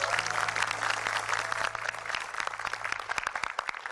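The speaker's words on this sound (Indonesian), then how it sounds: "Boleh tepuk tangannya dong?" Studio audience applause at an Indonesian talk show, a dense, steady wash of many hands clapping for several seconds, fairly close and unbroken.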